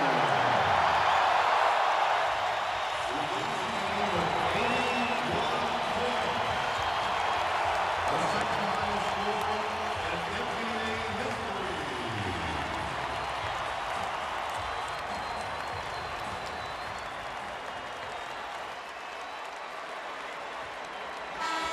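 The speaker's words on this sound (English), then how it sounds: "And listen to this crowd for number 8, Kobe Bryant." An arena crowd at a 2006 Toronto Raptors vs. Los Angeles Lakers basketball game roars and applauds for Kobe Bryant, a sustained wash of cheering that slowly fades, with a commentator's voice faintly underneath.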